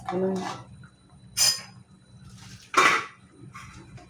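Metal lid lifted off a pot of egg curry, giving a few sharp clinks and scrapes spaced across the moment, close and fairly loud, with a quiet hum underneath.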